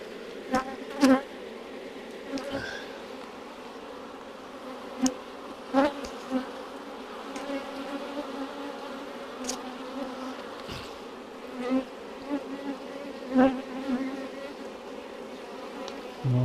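Honeybees at an open beehive hum in a continuous close buzzing drone, with individual bees now and then zipping past the listener in brief, louder whirs.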